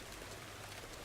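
Rain falls steadily in the farming video game Farmer's Dynasty, a continuous soft hiss of drops on surfaces with no other sounds.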